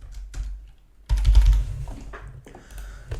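Computer keyboard typing during a Python programming lesson, a close cluster of key clicks and thumps after a few isolated taps, with no talk.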